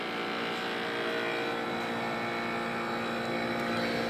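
A Copeland compressor in a GM Frigidaire Prestige refrigerator runs with a steady, droning mechanical hum and tonal whine, continuous and fairly close, without speech.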